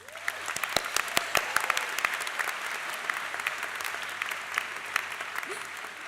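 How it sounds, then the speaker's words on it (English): An audience at a university third-year class ceremony gives a sustained round of applause, with many hands clapping in a dense, even patter and a few sharper claps standing out near the front. "Let's give them all one more round of applause"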